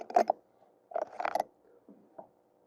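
Metal clicks and short ratcheting turns of a tool tightening a nut on a diesel VE injection pump, in three brief bursts with quiet gaps between them.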